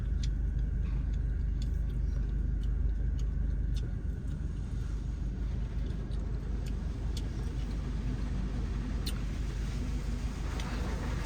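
Inside an automatic car wash, a spinning roller brush makes a heavy, continuous low rumble against the car, with faint regular ticking and tapping throughout, steady and close.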